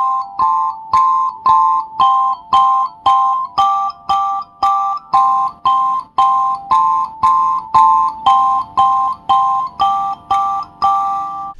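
Paired mbira notes sound together in regular plucked strokes, bright metallic chords that ring and decay one after another in a steady, repeating rhythm, up close and alone.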